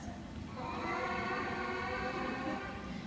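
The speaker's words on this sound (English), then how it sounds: "Our trumpets and our French horns have smaller mouthpieces, so they create higher buzzes, and they sound like this." Sixth-grade beginner trumpets and French horns buzzing on their mouthpieces, a dense, reedy cluster of higher buzzes sustained for a few seconds over background noise.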